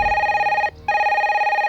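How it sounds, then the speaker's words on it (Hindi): An old office telephone bell rings in a steady, loud, continuous trill that breaks off for a split second and then resumes, with no voices. "जब भी इस फोन की घंटी बजती है मेरी घंटी बजने लगती है सर।"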